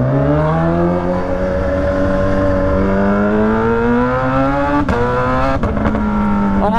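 A Kawasaki Z H2 supercharged motorcycle engine, in sports mode, revs steadily and loudly up close, its pitch slowly climbing, with a couple of sharp throttle blips near the end.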